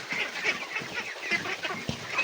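Domestic ducks raised on a farm quack and honk in a busy, overlapping flock chorus at feeding time, steady and close throughout with no talking.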